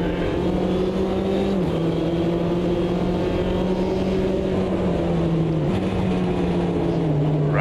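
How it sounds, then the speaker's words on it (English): Race car engine in the Automobilista 2 racing game held against the rev limiter, a steady loud buzzing drone with small pitch dips as it bounces off the cutoff, continuous and close throughout. "Just kept bouncing off the limiter."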